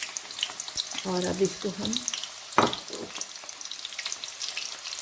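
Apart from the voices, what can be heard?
onions frying in oil for chicken potato biryani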